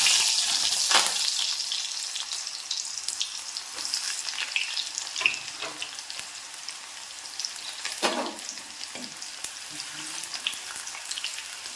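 Small onions sizzle and crackle steadily in hot oil, with occasional louder pops and stirring scrapes, close and continuous.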